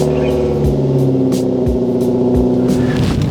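A Mazda 3 engine idles, humming steadily nearby, with a few soft thumps and clicks over the low, even drone.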